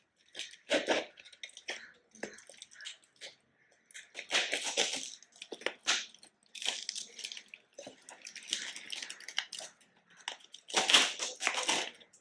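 Plastic packaging around a parcel of printed notes is torn and crinkled open up close, in bursts of sharp crackling and rustling separated by short pauses.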